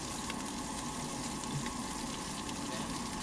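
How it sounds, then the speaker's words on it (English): Steady crackling sizzle of shrimp frying until crisp in a hot pan, continuous and close, with no voices. "you fry the shrimp on one side until it is nice and crisp"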